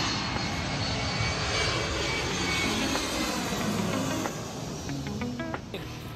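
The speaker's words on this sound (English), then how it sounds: "the visual of planes flying overhead is exciting" A loud, steady roar of a low-flying airplane passing overhead near a beach close to the airport on Kinmen, Taiwan, filling the whole clip and easing slightly toward the end.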